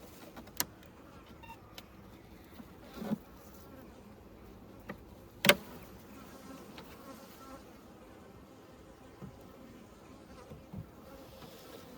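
A colony of honey bees at an open hive makes a soft, steady hum in close range, broken by occasional sharp clicks and knocks as the hive is handled.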